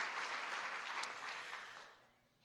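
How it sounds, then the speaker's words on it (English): Brief burst of crowd applause at an award ceremony, dense clapping that fades out over a couple of seconds, fairly quiet and distant. "Yes, definitely clapping"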